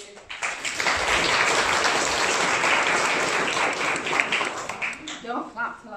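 An audience claps to welcome a lecturer to an open-week talk on mediumship, a full, sustained round of applause that fades out near the end as a voice begins speaking.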